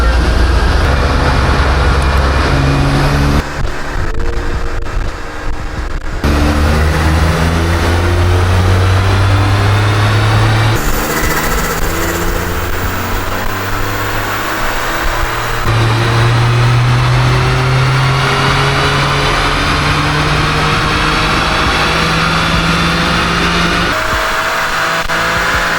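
A Toyota GR Corolla strapped to a dyno during tuning runs loud and close, its engine climbing through repeated rising pulls with gear-like steps, a steady roar throughout with no talk.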